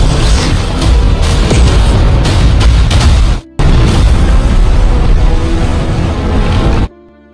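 A dense, roaring explosion effect from an animated fight scene rumbles continuously and loudly, cutting out briefly and then surging again before stopping abruptly.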